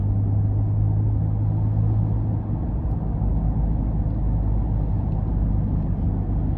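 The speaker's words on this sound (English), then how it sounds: "And I just put the driving mode in sport as well." A 2019 Ford F-150 Raptor on large off-road tires drives in sport mode, giving a constant deep rumble of engine and road noise heard from inside the cab, steady and even with no talking.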